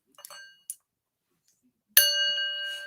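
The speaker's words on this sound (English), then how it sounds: "Where is my gong?" A metallic gong struck once rings out with a bright, sustained shimmer that decays slowly, preceded by a few brief quiet clinks and taps.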